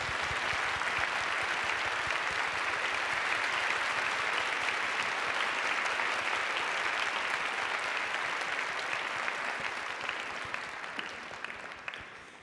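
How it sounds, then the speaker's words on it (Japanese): Large audience applause after a special-formation orchestra performance by Tokyo College of Music Symphony Orchestra at a TBS drama press event, steady and sustained loud clapping filling the hall throughout. "今一度大きな拍手をお願いいたします。"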